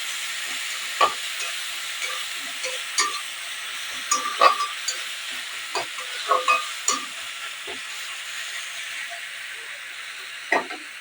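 Ginger, garlic and chili paste fries in oil for a fish dish, giving a steady hiss of sizzling with scattered spatula clicks and scrapes, near and without speech.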